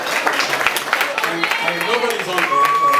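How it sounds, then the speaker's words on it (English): Crowd applause greets someone as he is introduced to speak at an evening gathering, steady clapping with voices talking over it. "Let's give him a round of applause."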